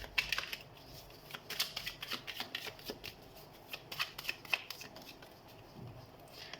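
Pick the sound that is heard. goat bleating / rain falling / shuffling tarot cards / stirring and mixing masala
shuffling tarot cards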